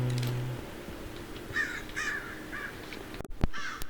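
Crows cawing in the survival video game From The Fog, several harsh caws in a loose series over a low background drone, fairly near, with a couple of sharp clicks toward the end and no talking.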